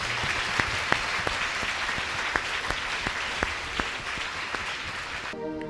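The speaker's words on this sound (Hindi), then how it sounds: "तालियां बजा के प्रभु को धन्यवाद देंगे।" A church congregation claps to give thanks to God, with steady sustained applause from many hands and some sharper individual claps cutting through. It ends abruptly as music begins.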